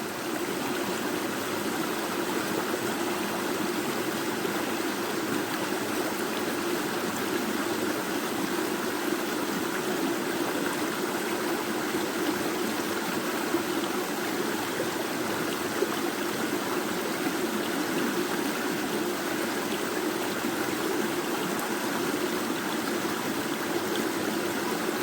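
A river flows steadily for the whole stretch, a constant, broad rushing and babbling of water close by, with no voices over it.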